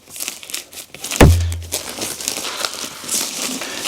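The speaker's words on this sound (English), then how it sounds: "So we're now going to take the cellophane off." Cellophane wrap crinkles as it is peeled from a Wizarding World 10-film Blu-ray box set: soft rustling and crackling near the listener, with one brief thump partway through.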